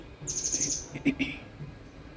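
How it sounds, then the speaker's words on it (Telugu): Birds chirp outside a home in the morning, giving a short bright trill followed by a couple of quick tweets, near and clear over a faint background hum. "అప్పుడే పక్షులు చాలా వచ్చినాయి"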